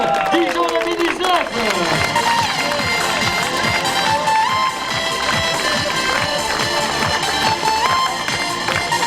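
Applause and cheering from a crowd at a half-Ironman triathlon prize ceremony in Dijon, a steady dense clapping wash mixed with music and an announcer's voice throughout.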